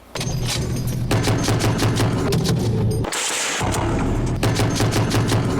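An American Browning 12.7 mm heavy machine gun mounted on an armored vehicle roof fires in combat, with sustained loud rapid bursts, a brief pause, then more continuous fire.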